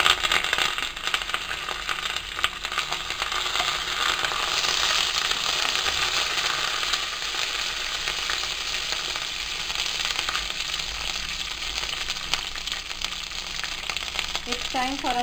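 Red chillies and curry leaves crackling in hot oil after mustard seeds, a dense steady sizzle that holds loud and even for the whole stretch, with a few sharp pops near the end.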